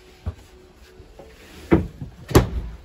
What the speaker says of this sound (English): if we just pick up the foot of this bed here, you do get access to that storage compartment